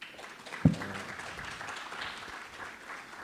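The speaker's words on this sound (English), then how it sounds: "So you can clap harder." Conference audience applause at an energy conference, a faint, diffuse patter of clapping with one sharp thump near the start.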